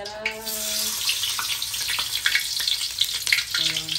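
Shallots, garlic and lemongrass frying with spice paste in hot oil for a prawn soup, a close continuous crackling sizzle with scattered pops and stirring scrapes, a faint voice briefly under it.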